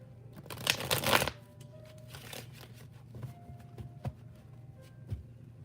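A deck of tarot cards is shuffled in a quick riffling burst up close, followed by softer scattered card taps and handling.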